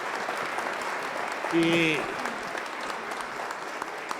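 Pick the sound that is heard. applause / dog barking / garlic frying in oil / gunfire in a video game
applause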